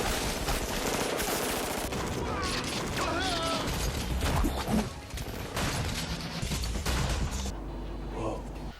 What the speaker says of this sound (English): A lobby shootout with a bunch of security and military forces that a badass with guns, lots of guns, comes rolling in.